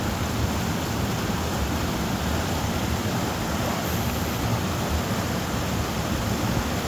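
Water rushes steadily nearby at Cypress Falls, a dense, even broadband roar like a small waterfall, close and continuous for the whole stretch with no voices over it.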